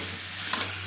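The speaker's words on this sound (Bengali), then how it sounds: "ভালো করে একটু মাছগুলো নেড়ে চেড়ে নেবে।" Raw fish being stirred in a spice masala in a pan, frying with a continuous hissing sizzle and a brief scrape of stirring partway through, close and steady with no talking.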